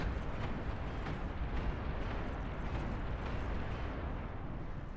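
Dense, continuous roaring rumble of big explosions in the real-time strategy game Beyond All Reason, during an 8v8 battle, sustained and loud for the whole stretch with no pauses between blasts.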